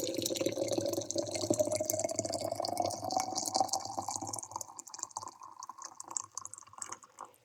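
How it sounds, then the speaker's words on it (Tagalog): Hot water poured over turmeric and ginger being prepared as a home remedy, a close, continuous splashing pour with rising pitch as the vessel fills, thinning into scattered drips toward the end. "tapos dagdagan natin ng mainit na tubig"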